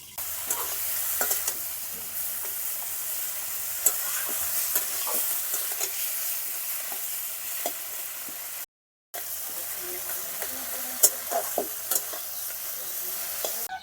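A silver carp fish head fries in a pan for a Bengali bottle-gourd curry, giving a steady, fairly quiet sizzle with scattered pops and occasional stirring scrapes, broken by a brief gap of silence.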